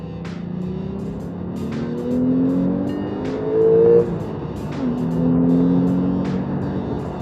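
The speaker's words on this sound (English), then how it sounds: "enjoy the high-revving flat-six engine" A 2016 Porsche 911's flat-six engine revs up and down repeatedly with a rising, buzzing drone, steady road noise underneath and periodic clicks or ticks.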